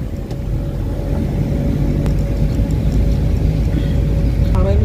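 A car drives along with a loud, steady engine drone and road rumble heard from inside the vehicle, and voices speak faintly beneath the noise.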